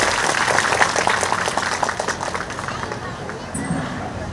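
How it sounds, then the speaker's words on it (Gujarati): A large crowd at a Shrimad Bhagwat Katha religious gathering applauds loudly and continuously for several seconds, dense clapping that gradually thins, with babble of voices mixed in. "તાળીઓના ગડગડાટથી બધા બોલાવો."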